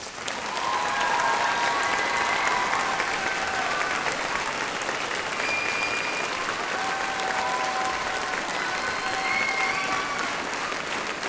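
A theater crowd applauds continuously after a school musical performance, a dense, sustained wash of clapping with no gaps, fairly loud and even throughout, with a few faint voices or whistles within it.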